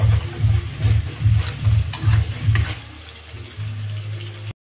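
A spoon stirs chili powder and garam masala in a frying pan for a vegetarian besan pakoda curry: a rhythmic scraping stir repeats about eight times over a low sizzle, then the stirring stops and the hiss carries on alone.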